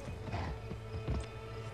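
Horse hooves clip-clopping in the video game Gun, a few quick, faint hoof strikes over a low steady game background.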